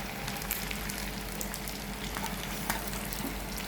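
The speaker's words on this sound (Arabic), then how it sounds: "قطعتهم شرايح وقلبتهم وشوحتهم مع الفراخ بعد ما اصفر لونها بالشكل ده" Six large sliced onions sautéed with browned chicken in a pan, a steady loud sizzle and frying crackle with occasional stirring scrapes, close and continuous.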